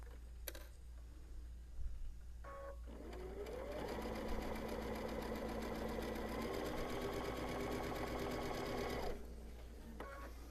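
A sewing machine stitches fabric in a steady, rapid run lasting several seconds, close and clear, with a few clicks and handling sounds before and after.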